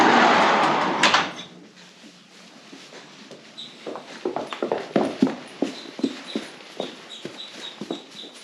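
Jack, a 19-year-old quarter horse in a stable, shifts about with a loud scrape or thump first, then a run of uneven hoof clops on the floor, fairly close and growing steadier.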